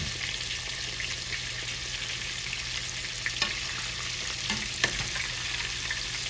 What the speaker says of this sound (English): put the shrimp in the oil